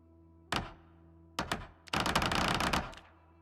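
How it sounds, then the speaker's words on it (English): A plank is nailed over a window in Project Zomboid. Two single heavy thunks come first, then a rapid run of clattering hammer blows that fades out, all over a steady low hum. "I'm gonna lightly barricade. So I'm just gonna put 1 plank on each window."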